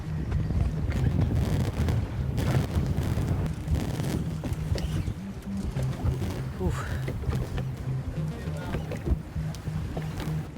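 Wind blows hard across the water on a fishing trip in Mexico, a loud, rushing buffet that roars against the microphone under a voice.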